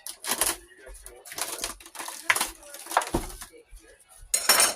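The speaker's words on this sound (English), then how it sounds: "Let me cut the mushroom first." A mushroom being cut with a knife in a home kitchen, heard as a series of sharp chopping taps and clatters on a board, irregular and close, with some clinking of utensils and dishes.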